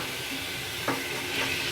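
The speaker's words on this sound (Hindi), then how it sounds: "5 मिनट कीमे को और प्याज लहसुन अदरक को भूनेंगे" Beef mince sizzling with onion, garlic and ginger in a pan, a steady broadband hiss of frying with a faint scrape of stirring partway through, no speech.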